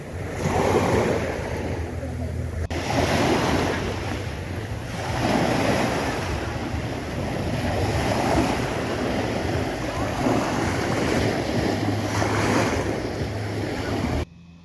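Steady roar of ocean waves washing in continuously at Samae San Island, Chonburi, Thailand, with wind buffeting the microphone; no voices.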